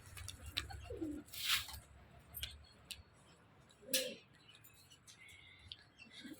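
Ring-necked dove calling in a pigeon enclosure, a couple of soft low coos heard near among scattered bird chirps and small clicks, fairly faint overall.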